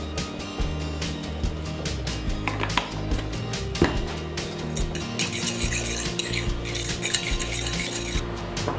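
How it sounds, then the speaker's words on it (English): Potato salad dressing with pickle juice and garlic salt being stirred in a bowl, with repeated close clinks and scraping of a utensil against the dish. "So I mix that all up."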